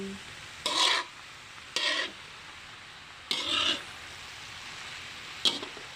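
Bamboo shoots simmering in coconut milk are stirred in a pan, with four short scraping, rasping strokes at irregular intervals over a quiet steady sizzle.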